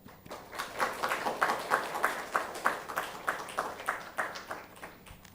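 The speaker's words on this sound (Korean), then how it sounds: "나오실 때 박수로 격려해 주시기 바랍니다." A church congregation claps during a Sunday worship service in a Korean church. The claps are soft and fairly distant, falling into a regular, even rhythm of quick strokes.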